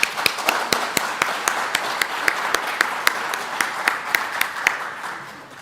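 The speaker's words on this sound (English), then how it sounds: "Can we have a round of applause for them?" A graduation audience for service dog team training applauds puppy raisers with steady, close crowd clapping and sharp individual claps standing out, fading away at the end.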